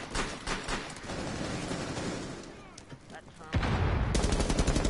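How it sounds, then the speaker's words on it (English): Rainbow Six game explosions and rapid gunfire crackle through the clip, with a heavy booming burst near the end that stays loud and dense. "that was a big explosion"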